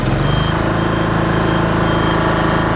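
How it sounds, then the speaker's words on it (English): An Athena bi-levelling scissor lift drives while raised on a slope of about 16 degrees, its steady motor whine and hum loud and continuous, with a rapid regular pulsing alarm beeping throughout. "This machine will now drive whilst raised on an angle of around 16 degrees."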